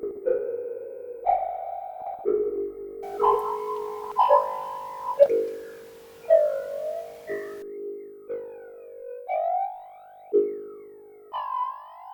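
A series of synthesized tones, each swept by a sweeping, whooshing comb-filter flange effect from a cheap DSP effects kit for a modular synth, changing pitch every second or so, clear and alone.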